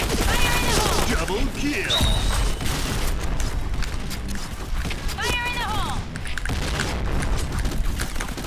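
Shotgun fire in the online shooter Point Blank, with bursts of booming shots and game effects layered over constant gameplay noise while a player talks.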